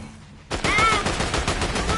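Gunfire in the Fortnite video game breaks out suddenly after a quiet start, a dense burst of overlapping shots that keeps rattling through the rest of the moment, loud and close.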